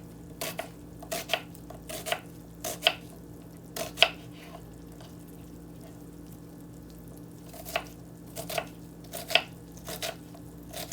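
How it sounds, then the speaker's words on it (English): An onion chopped with a knife on a cutting board in a home kitchen: sharp, crisp knife strikes in small irregular bursts over a steady low hum, with pauses between strokes. "I'm going to go ahead and chop up my onion."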